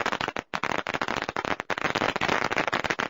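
Firecrackers going off during a Chinese New Year parade: a loud, dense, continuous crackle of rapid bangs, briefly broken by short gaps, close and overwhelming.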